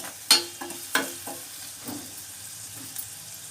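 Green chilli pieces go into a pan with onions for egg masala curry, producing a few sharp clattering stirs and pops over a faint, low sizzle, close and without speech.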